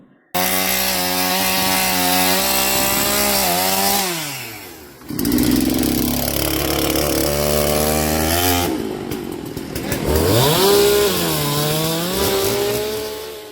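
A chainsaw cuts loudly and close through a fallen tree blocking a road after heavy rain, its engine pitch rising and falling between cuts, with brief pauses.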